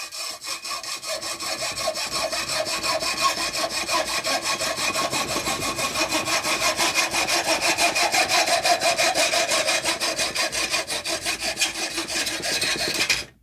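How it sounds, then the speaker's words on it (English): A hacksaw saws through a plastic pen clamped in a vise, producing steady back-and-forth rasping strokes at an even rhythm for about thirteen seconds, close and without talking. "I'm going to take my hacksaw, line it up with my piece of tape."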